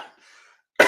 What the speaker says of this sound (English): Sorry, I've still got this cough.